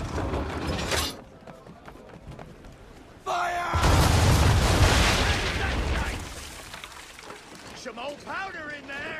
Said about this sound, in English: Now, aim all guns at her bow and do as much damage as possible. Prepare to fire!